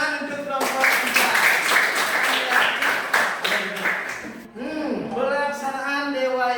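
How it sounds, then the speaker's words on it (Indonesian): A classroom group gives a round of applause for the third student group during a religious education teaching practice session; dense clapping runs for about four seconds, then a voice speaks over the fading room noise. "Bagus, tepuk tangan untuk kelompok 3"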